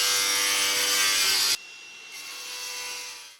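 Slate roof tile being cut to fit a solar panel bracket, a loud, steady abrasive grinding that runs for about a second and a half, then drops to a quieter, continuous whine as the blade spins on without cutting.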